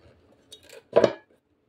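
A plate is set down on top of a cake tin to unmold a mango mawa cake, giving a couple of light clinks and then one sharper, ringing clatter of metal and crockery, close and brief.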